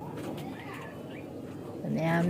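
Hungry pigeon chicks in a loft give soft, faint calls beneath someone talking nearby.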